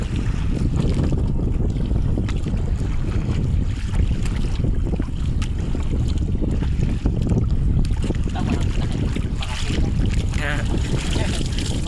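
A boat motor drones steadily and loudly throughout, with wind buffeting and water noise mixed in, close to the microphone.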